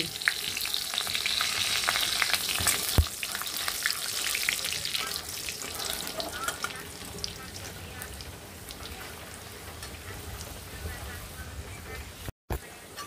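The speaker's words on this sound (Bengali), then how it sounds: "হিংটা দেওয়ার পরে রসুনটা বেশ ভালো ভাজা হয়ে গেছে, লঙ্কাটাও হয়ে গেছে" Garlic, dried chili and asafoetida fry in hot oil with a steady, dense sizzle and occasional stirring scrapes, loudest early and easing slightly toward the end.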